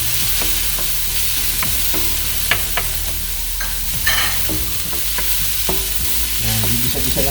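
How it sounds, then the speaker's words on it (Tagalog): Onion and garlic sauté in a hot pan with a constant light sizzle, broken by repeated scraping and tapping strokes of a stirring utensil, close up with no talking. "Gisa-gisa lang natin."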